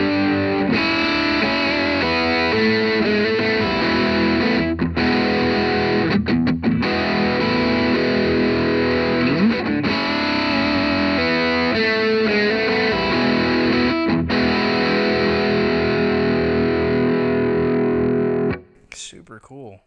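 Loud electric guitar through a Kinsmen Ethos Overdrive pedal with a crunchy, distorted tone, ringing chords washed in delay and reverb, playing steadily before cutting off abruptly near the end.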